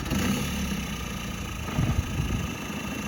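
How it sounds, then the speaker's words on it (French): A diesel car engine starts quietly and settles into a low, steady idle rumble, close by, with a brief louder burst partway through. "Est-ce que tu peux nous faire un démarrage silencieux?"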